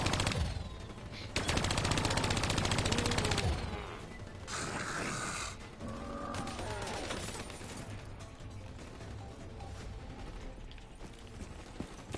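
Mounted machine gun in Call of Duty Black Ops 3 rattles in a long, loud continuous burst, then shorter bursts follow amid crashing impacts and explosions in a chaotic battle.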